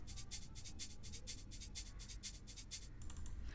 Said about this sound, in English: And then I just added a little shaker